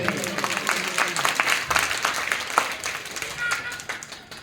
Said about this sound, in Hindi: खड़ी हो जाओ बेटियां, बहुत अच्छा प्रयास है, जोरदार ताली बजाइए।